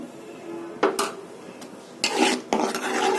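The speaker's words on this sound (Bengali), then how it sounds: "এখন মশলাটাকে ভালো করে কষিয়ে নিচ্ছি লবণ দিয়ে দিচ্ছি" Spice masala of chili powder and ginger-garlic paste stir-fried with salt in a pan for dried fish and radish bhaji, with a few sharp spatula scrapes and clatters against the pan between quieter rubbing. No one speaks.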